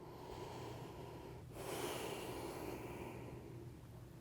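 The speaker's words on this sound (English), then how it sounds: "Take a breath here." A person doing gentle yoga takes one soft, audible breath, a quiet inhale through the nose that swells briefly and fades, close and alone in a calm room.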